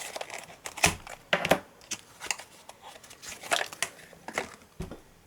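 Plastic packaging of a stickerless Cyclone Boys 2x2 cube crinkles and crackles close by in uneven bursts as someone struggles to open it, with no voice.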